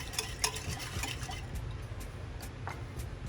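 A spoon works through a Jamaican bread pudding mixture, giving soft, steady scraping and wet stirring close by with light clinks against the bowl, and no talking.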